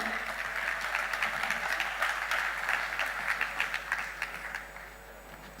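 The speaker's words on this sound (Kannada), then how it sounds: "ದಿನೇಶ್ ಕಾಮತ್ ಇವರಿಗೆ ಜೋರಾದ ಚಪ್ಪಾಳೆಯಿಂದ ನಾವು ಸ್ವಾಗತಿಸೋಣ" An audience claps warmly and steadily for several seconds, a dense, even wash of applause in a hall welcoming a guest onto the stage at a Bharatanatyam debut performance.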